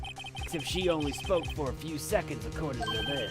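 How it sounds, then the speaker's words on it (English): A telephone ringtone from the Ace Attorney video game chimes faintly in the background, heard at the start and again near the end, beneath someone speaking. "I heard a phone ring just now"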